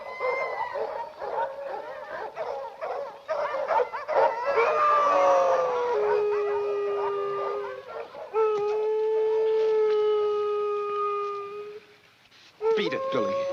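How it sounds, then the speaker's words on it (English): Several dogs howl in long, rising and falling wails that overlap, with a few short yelps and barks mixed in, fairly close. "Don't know what's bellyaching those dogs."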